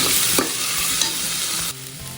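Mint leaves sautéed in a hot pan, a loud, dense close sizzle with a few brief stirring scrapes, easing slightly near the end.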